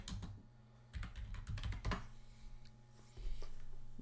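Computer keyboard typing of a text command, a quick run of close, crisp key clicks in irregular bursts over a steady low hum, with no talking.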